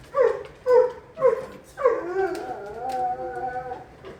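Several dogs howl and yip in reaction to an injured cat: a few short, sharp cries in quick succession followed by a long, wavering howl, close and clear with no talking.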